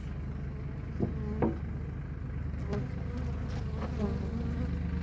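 Honey bees hum in a dense, continuous drone at an opened hive during a February inspection, with individual bees buzzing past close by now and then.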